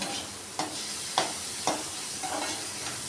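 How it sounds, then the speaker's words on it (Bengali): Whole mung dal tadka being stirred in a frying pan, with a steady sizzle under three or four sharp scraping strokes of the spoon at an even rhythm, close and moderately loud, no voices. "এইগুলো যতক্ষণ না ভাজা ভাজা হবে ততক্ষণ আমি নাড়তে থাকবো।"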